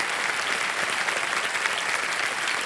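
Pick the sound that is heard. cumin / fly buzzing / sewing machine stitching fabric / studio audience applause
studio audience applause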